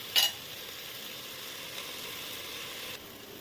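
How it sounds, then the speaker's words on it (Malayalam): Ginger, green chilli, coriander, garlic and pepper masala sautéing in a pan for biryani, a steady close sizzle with a brief clank of a utensil at the start and no talk. "ഇതും കൂടി ചേർത്ത് വെച്ചിട്ട് നന്നായിട്ട് ഇതിൻ്റെ പച്ചന മാറാതെ വഴറ്റും."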